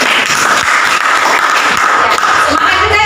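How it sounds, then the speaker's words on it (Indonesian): A classroom group applauds a student named Wira, a dense burst of loud clapping from many hands that carries on steadily at close range. "Tepuk tangan untuk Wira"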